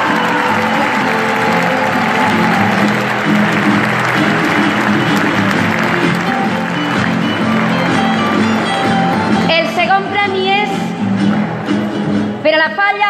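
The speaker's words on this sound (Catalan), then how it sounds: "Que és un fort aplaudiment a la Falla Joan Ramon Jiménez de Xàtiva." Loud, sustained audience applause at a Falla Joan Ramón Jiménez of Xàtiva event during a falles booklet awards ceremony, a dense wash of clapping filling the space, with a few voices rising over it near the end.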